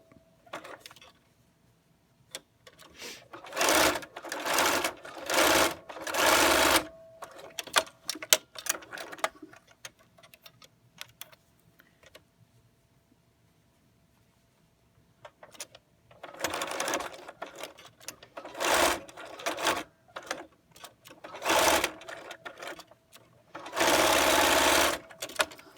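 A sewing machine stitches cotton mask fabric in several short bursts of rapid mechanical whirring, separated by quiet pauses, close and clear.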